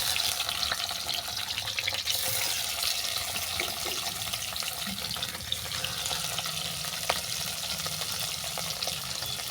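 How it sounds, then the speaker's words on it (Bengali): Hilsa fish frying in hot oil, browned on both sides: a steady, dense sizzling hiss fills the whole stretch at close range, fairly even in loudness with no voices over it. "তেলটা গরম হয়ে গেছে মাছগুলোকে ভেজে নিচ্ছি"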